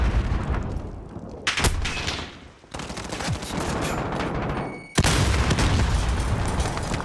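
Rapid bursts of video game gunfire in an esports match, loud and close, with sharp shot onsets near 1.5 and 5 seconds and sustained dense firing between, no talk.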